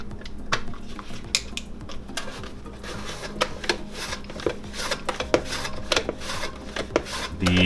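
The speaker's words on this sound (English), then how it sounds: "Now you're going to slice your zucchini chips with the mandoline slicer." Zucchini halves being sliced into chips on a sharp-bladed mandoline slicer, a steady run of quick rasping strokes with crisp clicks, close and fairly loud, with a few brief knocks throughout.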